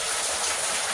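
Rain falling outside, heard as a dense, steady hiss of drops on surfaces, close and fairly loud throughout the short stretch with no talking.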